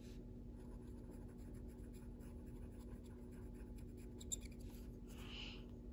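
Faber Castell colored pencils scratch and squeak faintly against paper in steady, continuous strokes close by, with no talking and a quiet background hum.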